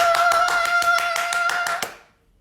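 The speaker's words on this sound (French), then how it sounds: "Sous vos acclamations, s'il vous plaît" Crowd applause at a church gathering welcoming a singer: brisk, regular clapping with a steady rhythm that holds for about two seconds, then stops abruptly into silence.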